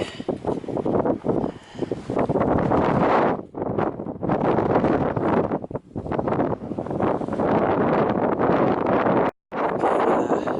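Strong wind blowing across an open hillside at Hadrian's Wall, buffeting the microphone in loud, sustained roaring gusts with only brief lulls.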